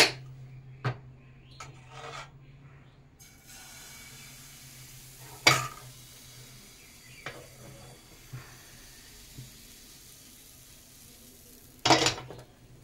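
A patisapta crepe cooks in a ghee-brushed pan, a faint steady sizzle punctuated by a few sharp scraping and clattering sounds of a spatula against the pan, with quiet stretches between.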